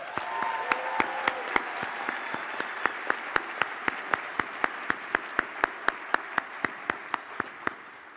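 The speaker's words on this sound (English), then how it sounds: "So please join me in thanking and applauding them for the support and encouragement they have provided to help you arrive at this special moment." Audience applause at a commencement ceremony for graduates' families: a broad steady wash of crowd clapping, with a sharp regular tapping that repeats throughout on top of it.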